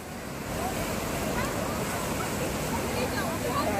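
Heavy rain-swollen sea surges and breaks against the shore at Bandstand in Bandra, Mumbai, a loud, continuous roar of churning water with wind noise on the microphone and no clear gaps.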